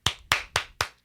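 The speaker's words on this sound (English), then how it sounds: "I will clap for myself." Five sharp hand claps in an even, slow rhythm, close and clear, with quiet gaps between them and no talking.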